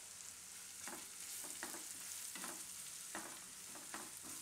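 Red chilli pieces and asafoetida sizzle and crackle steadily in hot oil while a Gujarati purple cabbage and corn dish is being cooked, with intermittent louder spits over a continuous frying hiss; no talking.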